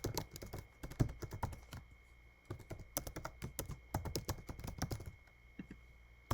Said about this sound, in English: So here I'll type in my email.